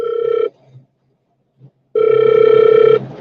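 A telephone rings loudly and close, two electronic trilling bursts, the first cut off and the second lasting about a second, separated by a silent gap.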